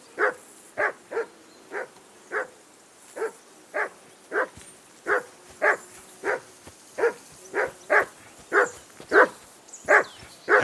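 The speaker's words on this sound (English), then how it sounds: "Whistle at that mutt of yours to stop barking!" Dog barking in the medieval role-playing game Kingdom Come: Deliverance II, a steady run of about twenty sharp, evenly spaced barks, close and clear over a quiet background with no talk.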